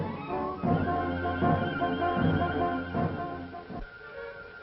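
A horse whinnies loudly several times in a row, close by, with a few dull thumps toward the end.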